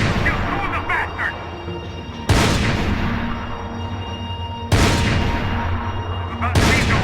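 Loud gunfire in the video game Max Payne, with heavy sharp shots at intervals of a couple of seconds over dense rumbling action and background shouting.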